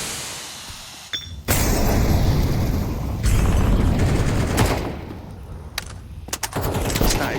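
Rapid automatic gunfire from a Counter-Strike 2 match on the Overpass map at a professional tournament comes in several loud bursts with short gaps between them, mixed with background game noise.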